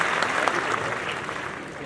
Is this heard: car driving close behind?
no